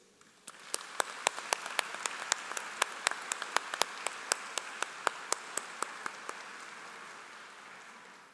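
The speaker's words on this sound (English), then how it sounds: "please join me in giving our parents and guardians a big round of applause" Parents and guardians receive applause at the 2022 Otsego High School commencement, where a large crowd claps steadily for about seven seconds. Sharp individual claps stand out above a dense wash that swells and then slowly fades.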